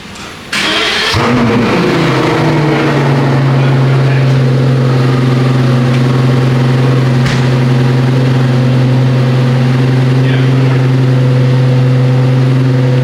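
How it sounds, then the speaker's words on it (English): A Pagani Utopia supercar engine cranks and bursts to life with a loud roar, then settles into a deep, steady, rumbling idle close by. "What a startup. That is so loud. Louder than I thought."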